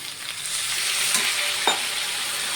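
Cumin powder, chili powder and Kashmiri chili powder frying in a pan sizzle loudly and steadily as a splash of water hits them, with a brief louder hiss and spatter midway; no one speaks.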